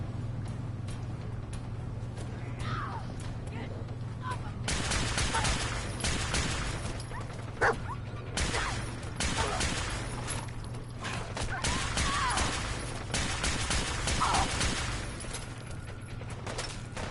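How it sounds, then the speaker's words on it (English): A radium rifle fires in Fallout 4, repeated bursts of rapid mechanical automatic shots with clacking action noises, loud and close over a steady low background hum. "One problem with the radium rifle is when you shoot them, they catch on fire and you can't see what the hell you're shooting at."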